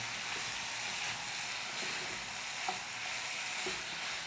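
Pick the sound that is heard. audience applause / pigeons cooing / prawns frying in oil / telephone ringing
prawns frying in oil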